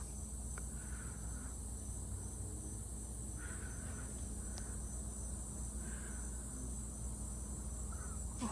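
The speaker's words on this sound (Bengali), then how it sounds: "আর ঝিঝি পোকার আওয়াজ চারপাশে" A faint, steady drone of crickets at dusk fills the background, with several short calls rising above it at intervals; quiet and distant, no voices.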